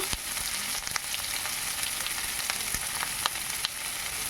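Five medium onions, finely chopped, frying in oil for a mutton curry, with a continuous close hiss of sizzling broken by sharp popping crackles and no voices.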